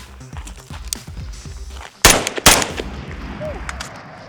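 A rifle firing 5.56 rounds at a target cracks out two loud shots about half a second apart, with outdoor background noise and faint chatter before them.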